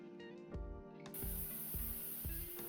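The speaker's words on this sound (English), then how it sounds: "I decided to spray paint it instead of using the stain" Spray paint hissing onto a wooden fireplace stand, with repeated short clicking bursts from the can nozzle at a steady rhythm and a continuous hiss rising midway, close by and without talk.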